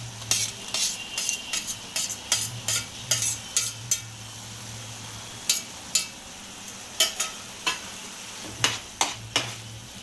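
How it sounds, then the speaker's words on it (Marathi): Finely chopped tomato stirred into a thick, browning mixture in a pan for a Malvani liver fry, a steady low sizzle broken by repeated sharp scrapes and clinks of a spoon against the pan. "टोमॅटो यात परतून घ्यायचा आणि थोडा वेळ झाकून ठेवायचं"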